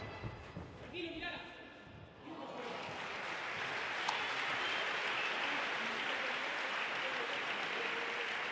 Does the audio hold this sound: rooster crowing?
no